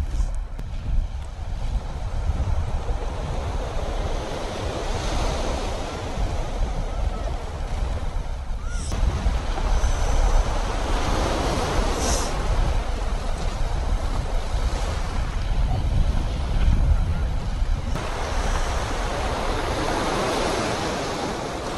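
Waves wash over and drain back through rocks on a sandy beach, a loud, continuous roar of surf with rushing surges and no clear voices.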